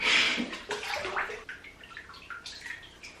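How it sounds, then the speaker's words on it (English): Water pouring and splashing in a bathtub as shampoo is rinsed out of long hair, a soft, close wash of running water that rises at first and then settles into quieter trickles, with no voices. "I'm gonna wash out this shampoo now."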